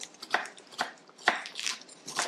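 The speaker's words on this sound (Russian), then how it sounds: "Теперь я нарезаю листья сельдерея." A knife chops celery leaves on a board: about five crisp, irregular cuts spaced roughly half a second apart, close and fairly loud with no talking.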